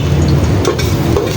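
Food dropped into hot oil in a pan, a loud, dense sizzle close by with a couple of brief utensil clicks, no one speaking.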